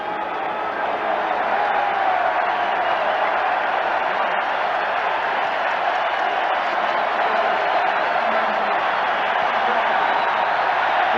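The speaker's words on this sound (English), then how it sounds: "That's Wild Bill Hagee and his cheering section in the upper deck." A cheering section of fans in the upper deck of a stadium during a World Series game, a steady, loud roar of crowd noise that holds unbroken throughout.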